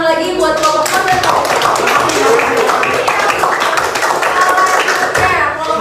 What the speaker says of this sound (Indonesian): Tepuk tangan lagi buat kelompok Honda